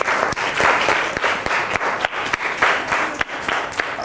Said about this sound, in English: Let's clap for everyone